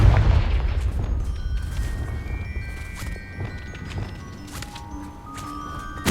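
Spell blasts and explosions in the video game Hogwarts Legacy, opening with a loud low boom, then a steady stream of crackling hits, whooshes and ringing magical tones, with no voices.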